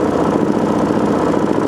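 A Gen II four-stroke bike engine idles steadily at about 1900 rpm during carburetor tuning, a loud, even, close mechanical patter with no talking over it.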